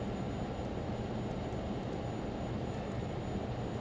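Learjet 35A jet engines roaring at takeoff power in Microsoft Flight Simulator 2020, a steady, dense broadband rumble that stays loud and even throughout, with a few faint high clicks.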